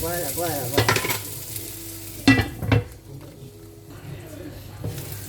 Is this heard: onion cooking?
yes